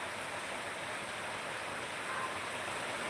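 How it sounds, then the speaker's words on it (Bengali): Steady rain falls in Dhaka as an even, dense hiss with no distinct drops or other sounds, heard from indoors. "এখন বৃষ্টি হচ্ছে"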